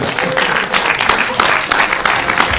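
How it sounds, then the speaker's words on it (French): Audience applause at a public political campaign meeting in Royan, France, steady and fairly loud clapping from a crowd filling the whole stretch, with music or voices faintly mixed in. "Sous votre applaudissement et avec de la musique."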